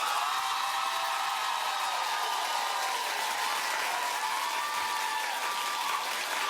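A studio audience on a daytime talk show claps, a dense, steady round of applause that holds at even loudness for several seconds, with no speech over it.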